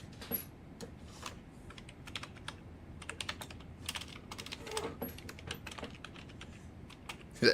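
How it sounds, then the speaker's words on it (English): Fingers tap a computer keyboard in irregular bursts of quick, light clicks with short pauses between, close and fairly quiet against a soft room background. "I should probably be typing this up to Seb"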